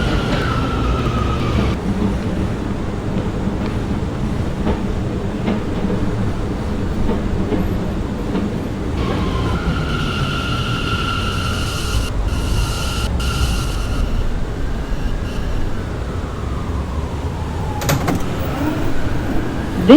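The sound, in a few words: R179 M subway train running, doors closing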